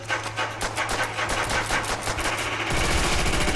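In Nazi Zombies, a blaster-like weapon fires steady rapid shots with an even, pulsing rhythm, loud and close throughout, while a low hum sits underneath.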